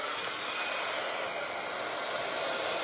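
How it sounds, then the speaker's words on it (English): A heat tool dryer blows continuously over watercolour card, a loud, steady broadband whoosh held without a break and with no talking. "Let's just give this a little whiz with the dryer."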